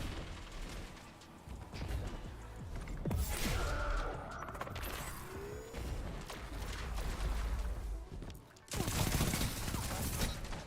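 A video game weapon fires in a dense, roaring barrage of shots and explosive booms amid chaotic battle noise. It stays loud throughout, with a brief dip near the end.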